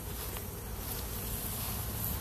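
Honey bees buzz as a steady, dense drone from a nearby hive during varroa mite work, holding a constant loudness without pause and with no voices.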